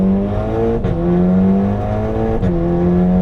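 An Audi S3 tuned to around 400 horsepower pulls hard through the gears on a track lap. The loud engine note climbs steadily, with two brief dips at the shifts, and no voices are heard.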